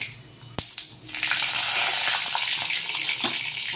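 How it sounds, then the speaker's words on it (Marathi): Mustard seeds, cumin and dried red chili crackle and spit in hot oil for a Marathi spinach-garlic tadka, a couple of sharp pops first, then a dense steady sizzle close up with no talking. "आता आपलं जिरं राई वाळी मिरची तडतडलेली आहे"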